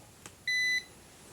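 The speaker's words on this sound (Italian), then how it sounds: "pochi multimetri hanno il bip sul diodo" A Kaiweets KM602 multimeter in diode test mode gives a single short electronic beep, clean and steady for about a third of a second, after a faint tick in an otherwise quiet room.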